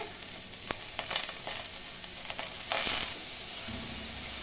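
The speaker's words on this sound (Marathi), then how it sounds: "तेल चांगल्यापैकी तापलंय। आपण कांदा घालून घ्यायचा।" Chopped onion drops into hot coconut oil in a pressure cooker with a sharp burst of sizzling that settles into steady crackling frying, close by, with a few stirring clicks and no talking.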